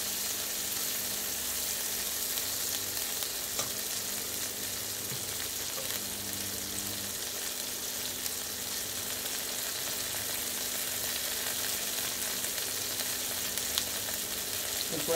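Okra frying uncovered in a pan gives a steady, dense sizzle that carries on evenly throughout, with faint stirring clicks now and then and no talking.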